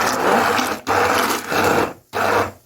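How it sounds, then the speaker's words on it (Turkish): A blender chopping figs whirs in several loud bursts, each cut off by a brief pause before the motor starts again. "Şöyle hiç bekletmeden blenderla incirleri parçalıyoruz"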